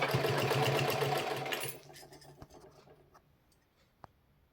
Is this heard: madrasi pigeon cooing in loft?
no